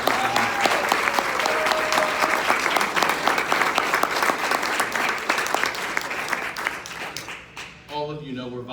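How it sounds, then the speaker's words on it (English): Sustained, dense audience applause at a National Exchange Club regional gathering, many hands clapping steadily and loudly for several seconds before thinning out near the end, with faint voices underneath. "Let's all give him a huge round of applause for the job he's done."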